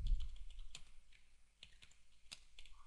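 Quiet, steady computer keyboard typing while code is entered, a run of soft key clicks with a few sharper taps, close and alone.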